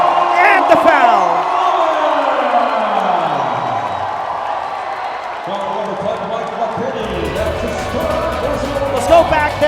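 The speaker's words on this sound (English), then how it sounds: "And the crowd loving it here in San Juan City." A crowd cheers and roars steadily through an ABL basketball game between San Miguel Alab Pilipinas and Macau Black Bears in San Juan City, with shouts and sneaker noise mixed in and a commentator talking over it.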